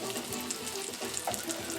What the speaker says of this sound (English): I'm going to rinse off my hands